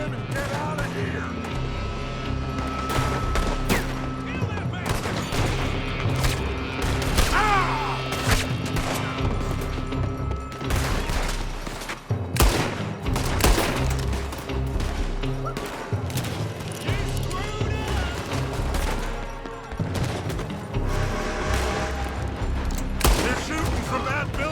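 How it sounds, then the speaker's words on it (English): Gunfire in Red Dead Redemption 2, a dense shootout of rapid shots and booming cracks from several guns, continuous and loud with occasional heavier hits, while game characters talk. "They're shooting from that building."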